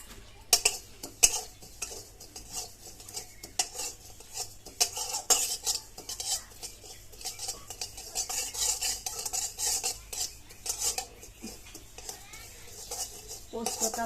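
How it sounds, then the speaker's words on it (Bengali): Poppy seeds being dry-fried and stirred in a pan, with steady scraping and clinking of a utensil against metal and a faint sizzle running throughout at close range. "এবার ভাজবো পোস্ত।"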